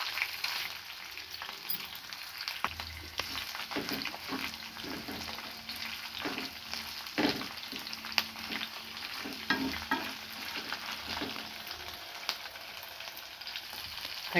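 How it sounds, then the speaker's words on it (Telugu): Cumin seeds and coriander seeds sizzle and crackle in hot oil in a pan with curry leaves, a steady close frying hiss broken by scattered pops and stirring scrapes. "జీలకర్ర వేసుకొని వేయించుకోవాలి."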